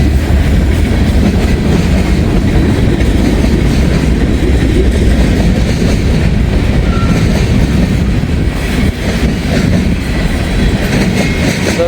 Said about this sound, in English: It's a long train here.